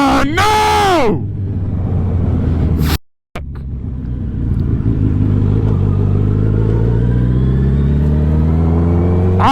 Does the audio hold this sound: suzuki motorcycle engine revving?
yes